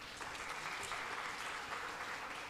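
Audience applause in the main auditorium at the NIPER PHARMACON 2022 pharma conference in Mohali, a steady, dense clapping that stays even and moderately distant from start to finish.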